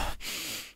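A voice imitates heavy, nervous breathing: a sharp inhaled gasp, a brief pause, then one long, loud, breathy exhale that fades at the end.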